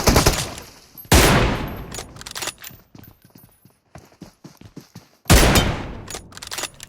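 Gunfire in the mobile battle-royale game BGMI, with a few sharp, loud shots spaced seconds apart and a run of quicker, softer cracks and clatter between them.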